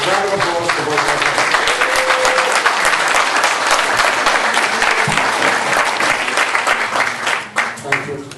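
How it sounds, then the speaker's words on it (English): An audience at a general election candidate forum in Putnam Valley applauds both candidates, a dense, loud, sustained clapping that continues for several seconds before beginning to thin near the end. "Round of applause for both candidates."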